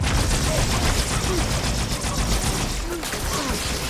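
Carbine fire in the Halo 2 video game crackles as a steady, loud stream of rapid shots, layered over dense battle noise throughout without a pause.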